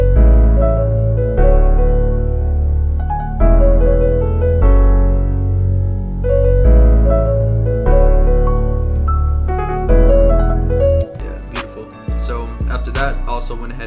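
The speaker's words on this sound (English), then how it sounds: "So went ahead and got this OVO bass." A loud OVO bass synth preset plays a melodic line in sustained, gliding notes with rich harmonics, then gives way near the end to a busier, percussive passage.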